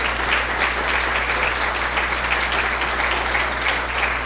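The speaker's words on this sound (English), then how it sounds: "Round of applause" Steady, dense applause from a seated audience at a school district Teacher of the Year luncheon honoring the executive leadership team, loud and continuous throughout with a constant low hum beneath.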